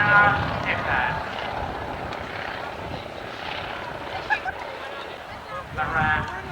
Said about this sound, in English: has a Jacobs 7-cylinder radial engine, and they're demonstrating just how slowly it can fly